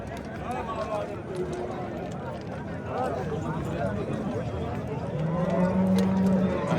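Cattle at a busy livestock bazaar in Yangiqurgon, Okdarya, Samarkand, with a low drawn-out moo rising near the end over a steady crowd din and people talking nearby.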